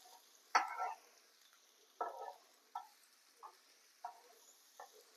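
A spoon stirs broad bean fry with ground masala and lentil powder and garlic in a pan, making six faint, separate scraping strokes that get shorter as the stirring goes on.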